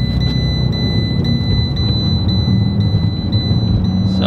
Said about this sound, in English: Now I'm just accelerating right now.